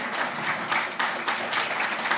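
A crowd at a university community service program ceremony claps in a steady, dense round of applause during a program handover, with faint voices mixed in.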